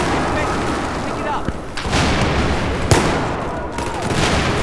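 Explosions and gunfire in the video game Battlefield 4: loud booming blasts and rapid shots, with several sharp reports spread across a dense, roaring battle bed. A voice talks over parts of it.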